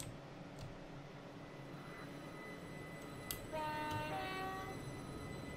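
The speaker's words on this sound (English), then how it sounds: "Let's watch the train depart on exterior view." A train departs in Train Simulator 2017 on the run from Letchworth to London Kings Cross, seen from outside. A steady low rumble builds into a rising tonal whine partway through.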